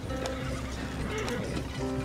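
A horse in the video game Red Dead Redemption 2 whinnies over a steady bed of game ambience, with a few soft hoof clops and a faint murmur of background voice.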